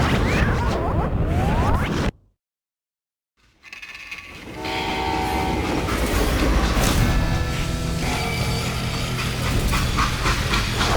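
A freight train rumbles loudly in the Western video game Call of Juarez Gunslinger, its horn sounding and cars clattering, broken by a brief gap of silence before the heavy mechanical rolling resumes and continues steadily.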